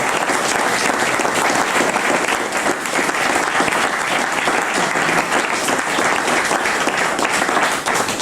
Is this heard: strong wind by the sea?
no